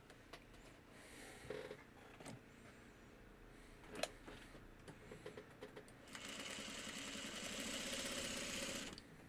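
A sewing machine stitches a quilt block for a Shooting Star pattern, running in a steady, near, continuous hum for the last three seconds after scattered handling clicks and rustles.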